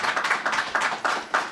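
Bursts of applause from an audience at a press conference on a minority business incubator expansion, rising and fading in several quick waves of clapping, close and fairly loud, with no talk over it.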